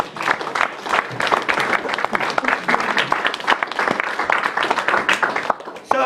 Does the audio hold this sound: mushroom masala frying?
no